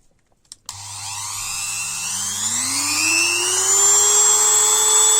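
A Goxawee Dremel-type rotary multitool with a five-speed potentiometer dial switches on and whines steadily and loudly, its pitch climbing smoothly as the speed is turned up.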